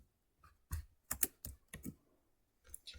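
Close, fairly quiet keystrokes on a computer keyboard while HTML code is typed, a short irregular burst of about eight clicks with brief pauses between them.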